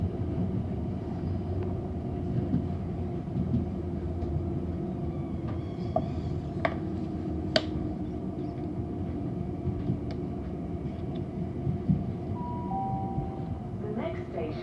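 Onboard a London Overground train running between stations on the Highbury & Islington to Crystal Palace line near Sydenham: a steady, close, loud low rumble persists throughout, broken by occasional brief clicks and a faint thin squeal near the end.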